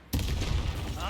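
A sudden loud blast bursts from silence as a fiery spell explodes in the Hogwarts Legacy game, followed by a rumbling roar that sustains for about a second.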